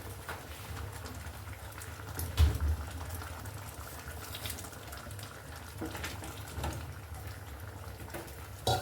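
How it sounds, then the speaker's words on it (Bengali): Dal simmering at a steady boil in a pot on the stove, a soft continuous bubbling and gurgling with a few louder pops, fairly faint and unbroken by talk. "এবার এটাকে এইভাবে ফুটতে দেবো"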